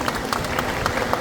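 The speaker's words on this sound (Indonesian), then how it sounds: "ya silakan Bu, tepuk tangannya silakan." Clapping from an audience at a pilgrimage-related gathering, a dense steady patter with a few louder, regular claps standing out, close and continuous.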